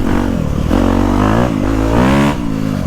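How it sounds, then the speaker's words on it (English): A 2025 Honda CRF250R Works Edition motocross bike revs loudly and close, its engine pitch rising and falling in several quick blips with a rough, buzzy tone throughout. "The engine is so responsive."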